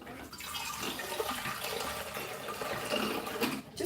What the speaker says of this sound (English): So I'm just gonna put water